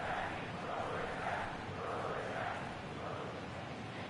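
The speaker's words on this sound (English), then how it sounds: "And the crowd chanting, throw it back, throw it back" Stadium crowd in MLB 2K22 franchise mode, Marlins fans chanting for a home run ball to be thrown back, a steady roar with rolling chant-like swells throughout.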